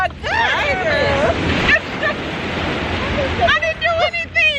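Waves surge and wash in a steady rush close by while several voices exclaim excitedly over the water noise.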